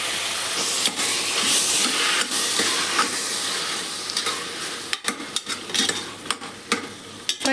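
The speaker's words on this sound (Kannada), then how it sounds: "ಬಟಾಣಿ ಮತ್ತು ಆಲೂಗೆಡ್ಡೆ ಎರಡನ್ನೂ ಕೂಡ ಒಗ್ಗರಣೆಗೆ ಹಾಕ್ತಾ ಇದ್ದೀನಿ." Peas and potatoes frying in hot oil in a pan for a tempering, a loud steady sizzle and hiss broken by several scraping stirs of a spoon, close up with no talking.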